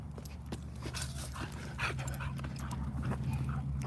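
Dogs pant in quick, soft breaths and let out a few thin whimpers close by, over a low steady hum.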